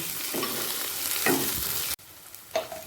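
Onion fried light red in a pan, with chopped tomato and green chili stirred in, sizzles loudly and continuously, with scraping stirs and a brief drop where the hiss briefly dies before resuming.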